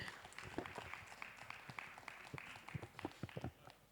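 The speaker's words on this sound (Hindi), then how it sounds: "ज़ोरदार तालियों से स्वागत करिए।" An audience applauds to welcome a speaker at a live music event, with loud, dense, close clapping that runs for a few seconds and then thins out.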